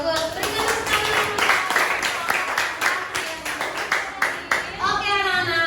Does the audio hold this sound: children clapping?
yes